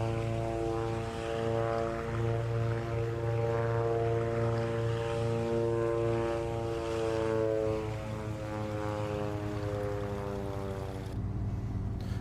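Twin piston propeller engines of a light aircraft in a flight simulator, a steady close droning hum with strong harmonic tones holding throughout and a brief dip near the end, with no talk.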